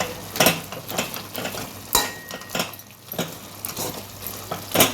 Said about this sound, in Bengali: এবার আমি শাকটা একটু ডাল ঘাঁটা দিয়ে ঘেঁটে নেব।